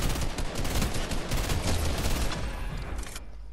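Rapid automatic gunfire rattles through a video game, a dense loud burst of shots lasting about three seconds before thinning out.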